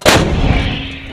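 M777 howitzer fired by Army 101st Airborne soldiers: a single loud, close blast with a sharp crack that rolls into a long booming rumble and decays over a second, no talk during it.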